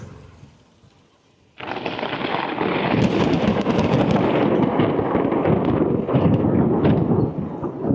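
Thunder from a rainstorm over the countryside breaks in abruptly after a quiet moment, swelling into a loud, sustained rolling rumble that carries on for several seconds with no talking.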